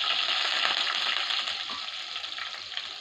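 Garlic sizzles in hot oil in a pan, a loud, bright, steady frying hiss that eases slightly over a few seconds, with no talking.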